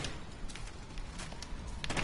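Rapid bursts of automatic gunfire from Call of Duty Ghosts multiplayer, with a string of sharp cracking shots over a dense, noisy game mix and no voices.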